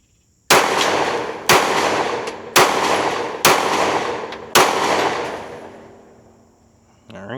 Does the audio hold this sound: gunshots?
yes